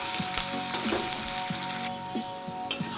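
Chopped onions fry in a pan for a Bengali fish curry, giving a continuous close sizzle with a few soft stirring scrapes over it and no talking.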